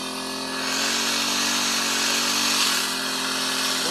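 A small engine-driven power sprayer runs steadily and loudly up close, a constant buzzing motor drone with a slight rise in intensity after the first half second, used to mix and spray an organic fish amino acid foliar solution.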